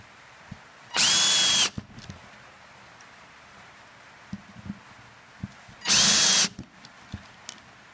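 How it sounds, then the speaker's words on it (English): A power drill-driver sinks screws into soft wood while building the base of an upcycled tyre seat: two loud, steady whirring bursts, each under a second and spaced well apart, with faint knocks and handling noises between them. "There you go, using a screwdriver,"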